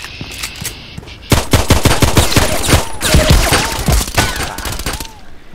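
Handgun shots in the Contract Wars video game ring out loud and close in quick successive bursts after a short lead-in, firing rapidly with barely a gap between them.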